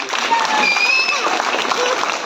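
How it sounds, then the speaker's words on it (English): An audience at a preview screening of the Tamil film Miss You claps for the cast, brisk crowd applause mixed with whistles and shouted cheers, with voices mingling in the noise. "Avangalukkaga or big round of applause."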